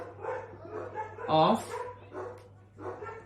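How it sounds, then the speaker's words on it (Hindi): Dogs bark outside in a few short, sharp bursts, the loudest in the middle, heard beneath someone speaking indoors during a lesson. "कुत्ते भौंक रहे भाई बाहर।"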